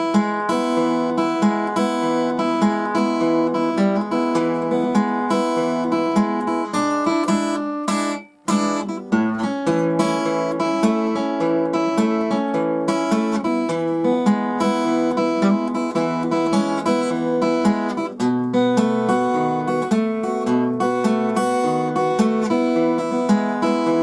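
An acoustic guitar plays a fingerpicked country blues in E, with a steady alternating bass under plucked melody notes, close and alone, broken by one brief pause.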